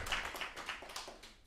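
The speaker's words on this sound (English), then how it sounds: "Round of applause there." Faint scattered clapping from a small audience at a live performance, a handful of soft claps in an uneven rhythm, quiet and fairly distant.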